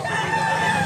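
Close, steady crowing from a two-year-old rooster, a quality gamecock line for sale in Mantalungon, Cebu, held as a single sustained call with no talk over it.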